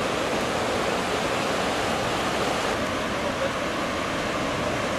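Pacific Ocean waves along the coast near Brisbane, Australia; a continuous, loud broadband wash of surf with no distinct breaks and no talk.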